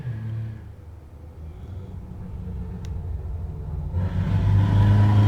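A loud car with no muffler rumbles by in a residential neighborhood, a coarse low roar that swells over the final seconds as it draws close, with no talk over it.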